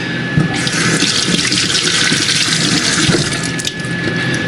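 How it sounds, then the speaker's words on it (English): A tomato is washed under a running kitchen tap, with a loud steady stream of water splashing into the sink and the flow shifting slightly as the tomato is turned, close by. "tomato washed, ready to go."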